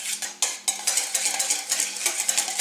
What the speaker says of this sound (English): Now we're going to mix this here thoroughly